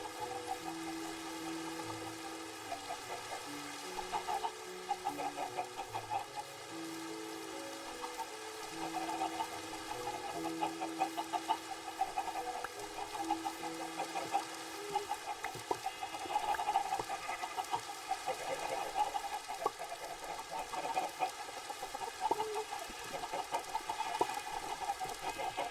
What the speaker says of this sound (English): Now I gotta collect all the chickens.